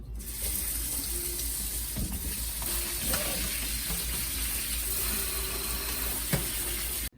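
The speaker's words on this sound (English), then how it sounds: "So I'm just putting them into my strainer here. And I'm gonna give them a good rinse." Canned red kidney beans rinsed in a strainer under a running kitchen tap, with a steady, even rush of water pattering through the beans for the whole stretch and no voices.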